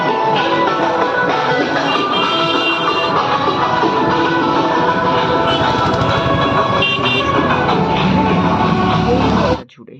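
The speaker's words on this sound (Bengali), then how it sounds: "আর রাস্তায় তো পুরো জ্যাম" Dense road traffic in a jam at night during a festival, heard from the back of a moving van, with loud continuous car and motorbike horns tooting over engine rumble, then cutting off abruptly at the end.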